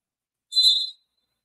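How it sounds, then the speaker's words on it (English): A referee's whistle gives one short, sharp blast at a men's college basketball game between UFTL and Florida National University, heard alone with no talk. "Now he blows the whistle."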